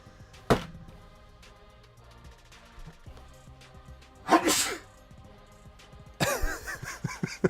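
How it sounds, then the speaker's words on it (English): Three separate sneezes from one person, loud and close, spaced a few seconds apart, the last followed by a short gasping burst, with no talking in between. "You know you're sick when you can't stop sneezing."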